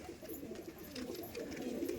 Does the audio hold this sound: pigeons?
yes